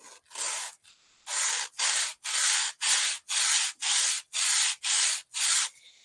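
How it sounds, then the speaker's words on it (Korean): Sandpaper rubbed back and forth across wood in a woodworking workshop, about ten steady, evenly spaced strokes, close and fairly loud, with no talking. "나무 갈리는 소리도 쓱싹쓱싹 하는 것도"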